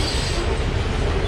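A train rolls past nearby in a continuous, dense rumble with faint rail noise, heard alone for just over a second.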